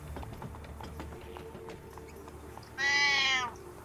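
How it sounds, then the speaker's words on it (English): A single drawn-out cat meow, fairly close and clear, rising out of quiet ambient background with faint taps and thuds earlier on. "Hang on, I got a fucking cat"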